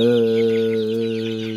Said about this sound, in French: devant, encore des poules